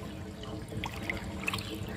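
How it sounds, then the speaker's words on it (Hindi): Rainwater drains off a house rooftop after debris is cleared from the outlet, a faint, steady trickle and gurgle with a few small splashes, heard from a distance and with no voices. "अब देखिए दोस्तों धीरे धीरे पानी जाने लगा मेरे छत पर से"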